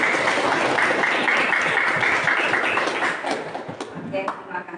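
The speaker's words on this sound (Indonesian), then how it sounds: "kasih aplaus buat Nadia" A classroom of students applauds a classmate during a physics lesson, a dense burst of clapping that holds steady for about three seconds and then thins into scattered claps before fading.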